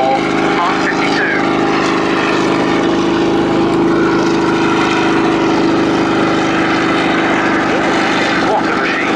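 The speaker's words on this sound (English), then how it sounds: "The beautiful and amazing sounding Bristol Sycamore Mk.52." A Bristol Sycamore Mk.52 helicopter at an air show drones loudly and continuously, a steady heavy engine and rotor rumble filling the whole stretch without letup.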